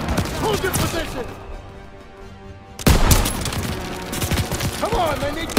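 Dense gunfire crackles through a Call of Duty WWII campaign battle, heavy bursts of rifle and machine-gun fire rattling close and loud, briefly dropping away before erupting again, with shouted soldier voices mixed in.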